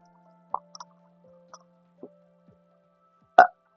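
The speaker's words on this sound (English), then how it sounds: "I feel bad for burping on the phone while I was recording the video" A single loud burp near the end stands out after several small clicks and faint noises, recorded close to a phone during a Minecraft City role-play session.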